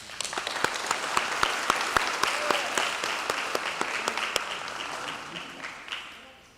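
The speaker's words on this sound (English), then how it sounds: "Please give yourselves a round of applause." An audience at a high school graduation applauds steadily, with sharp individual claps standing out in a sustained wash that tapers off at the end.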